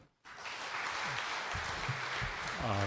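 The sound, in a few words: applause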